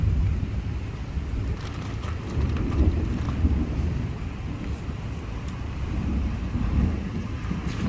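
Low thunder rumbles from an approaching storm, with heavy wind buffeting the microphone and a continuous broad roar through the whole stretch.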